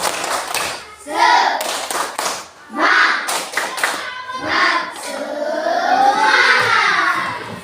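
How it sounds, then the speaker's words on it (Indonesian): A school class performs a rhythmic 'tepuk semangat' spirit clap, with loud, close handclaps in quick patterned bursts alongside children's chanting voices. "Mari kita tepuk semangat dulu. Tepuk semangat."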